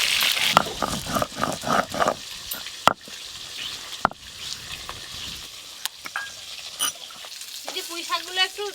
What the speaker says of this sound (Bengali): এবার এইগুলো একবারেই ভেজে নেব।